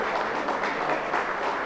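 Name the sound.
audience applause for professor Luis Núñez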